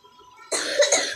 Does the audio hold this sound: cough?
yes